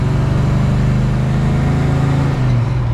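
A red 1966 Chevrolet Chevelle SS with a 454 and a four-speed cruises on a road in Clarkston, Michigan, its engine droning loud and close with a steady tone that drops in pitch near the end.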